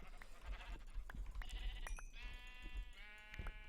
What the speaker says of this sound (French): Il y a d'autres moutons.